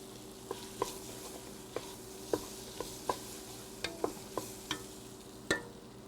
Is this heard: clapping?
no